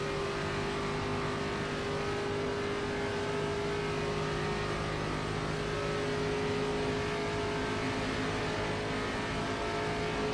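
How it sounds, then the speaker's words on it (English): A race car engine at Talladega roars steadily and loudly for the whole stretch, a continuous droning mechanical rumble with a sustained tone and no speech over it. "Look at that race car behind us, boys and girls."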